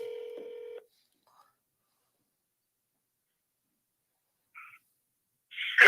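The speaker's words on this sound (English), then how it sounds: "we're making a phone call here" Telephone keypad tones sound as a call is placed, one steady dual-tone beep lasting under a second, then near silence, a brief faint blip, and a louder burst of sound at the very end.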